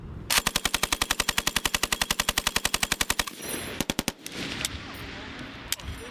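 A US Marine machine gun, an M2 Browning or M240, fires a long, steady burst of about thirty rapid shots, then a short burst of four more, loud and close, with a faint later report over outdoor ambience.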